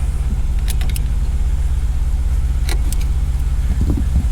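A car engine idles steadily after a jump start from a portable battery pack. A low, constant rumble sits close by, with a few light metallic clicks and jingles and no speech.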